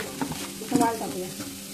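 Lentils hit hot oil in a pan and get stirred while bharangi greens are cooked. A soft sizzle runs under a few quick scraping strokes, close up, with no talking.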